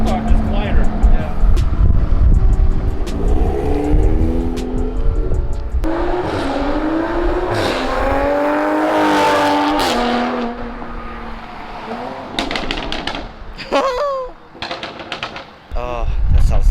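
2020 Toyota Supra fitted with an AWE Tuning resonated exhaust drives by, engine note climbing through revs as it approaches and passes, loud and close, followed by quieter crackles and pops; people talk briefly.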